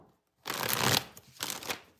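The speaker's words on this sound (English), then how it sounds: "I'm just going to give you a second while I shuffle the cards." Tarot cards are shuffled by hand in two quick papery bursts, a riffling rush followed by a shorter second pass, close and soft with no talking.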